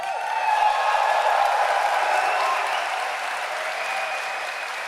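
Large crowd applauding steadily at Gamescom 2023 Opening Night Live, dense sustained clapping that fills the whole stretch without letting up and eases only slightly toward the end.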